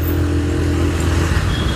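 Road traffic on a rainy day, a continuous loud engine drone with steady low rumble and passing vehicle noise close by, no voices.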